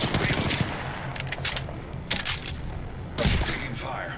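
Gunfire in Apex Legends, a battle royale video game: bursts of weapon fire cut in at intervals over a dense, busy game soundscape, with loud cracks standing out among quieter stretches.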